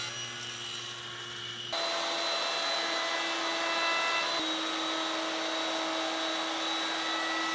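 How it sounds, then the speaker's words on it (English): Power saw with its blade tilted to 12 degrees cutting a chamfer along a wooden lamp top clamped to a 90-degree support: a loud, steady high whine and rush of the cut after a brief spin-up, close and alone. "With my blade tilted to 12 degrees and the top clamped to this 90-degree support, I'm going to cut a chamfer on both sides of the top"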